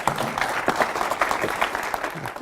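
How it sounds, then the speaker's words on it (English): An audience claps for speaker Jay Walker, founder of Priceline.com, at a DaVinci Institute event, a dense burst of many hands applauding steadily and fairly close for a couple of seconds. "Let's give a big round of applause to Mr."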